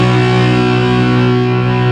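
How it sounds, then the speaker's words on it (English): Two low guitar strings, the 6th and 5th, plucked together with a plectrum and held through heavy amp distortion, ringing as one loud sustained chord for about two seconds. "Now obviously I've got the distortion on my amp"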